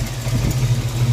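Ford Foxbody Mustang V8 with an exhaust leak idling roughly, a close, loud, low rumble with an uneven pulsing throb.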